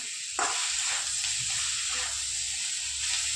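Chopped watermelon and other recipe ingredients sizzle steadily in hot oil as they are sautéed, with a continuous close frying hiss and a few soft stirring scrapes, no talk.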